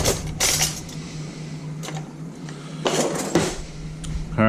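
Kitchen rummaging while fetching a teaspoon for making crab puffs with wonton wrappers: scattered metallic clinks and clatters of cutlery and dishes, a few sharp knocks, close and moderately loud.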